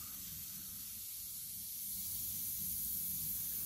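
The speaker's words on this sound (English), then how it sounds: "you're basically spraying an intermediate coat" Aerosol spray paint laying down an intermediate coat, a steady close hiss that holds for a few seconds and swells slightly louder toward the end, with no talking.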